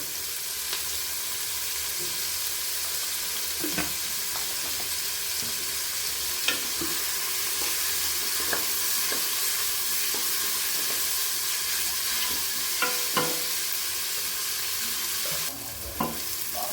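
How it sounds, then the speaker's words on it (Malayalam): Sliced onions sautéing with salt in a pan for chicken biryani, a steady close sizzle and hiss running throughout, broken by occasional scrapes and clinks of a stirring spoon. "നന്നായി നമുക്കിത് വഴറ്റിയെടുക്കണം"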